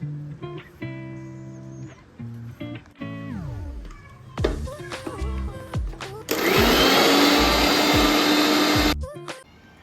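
A mixer grinder blending aloe vera roars loud and close for about three seconds before cutting off. Scattered kitchen clatter and brief tonal sounds precede it.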